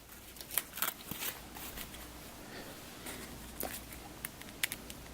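Cards from a GI Joe deck-building game being shuffled on a table, a soft, quiet riffling and patter with scattered light snaps and taps.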